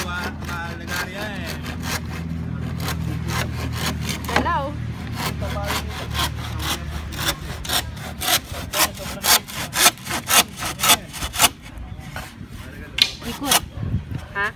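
A hand saw cuts through soft wood with a steady back-and-forth rasp whose strokes grow louder and quicker toward the end, nearby, with some talk in the background.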